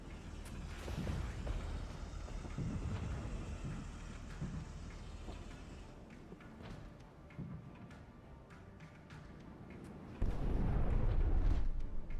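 Artillery and a TBM missile strike pound enemy Panzer Grenadier positions in the Cold War real-time strategy game Regiments, a continuous rumble of distant explosions and crackling impacts that swells into a louder, heavier barrage near the end.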